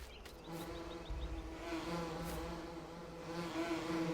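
Bees buzz around hives in Farming Simulator 19, a close, continuous insect drone with a few wavering tones drifting over a low steady background.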